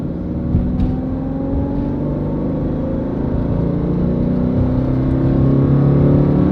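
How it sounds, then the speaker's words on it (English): A Subaru Crosstrek pulls hard from 20 to 60 mph in second gear, its loud engine drone heard from inside the cabin, rising steadily in pitch without a break. "Maybe you should do 20 to 60 from second gear"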